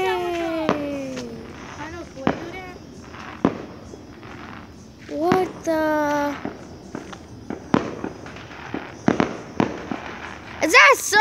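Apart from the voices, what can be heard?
fireworks exploding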